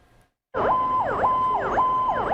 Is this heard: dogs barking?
no